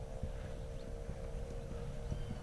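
A horse works in a pen during a training session, its hooves giving soft irregular thuds on the ground under steady wind and outdoor noise, with no talk.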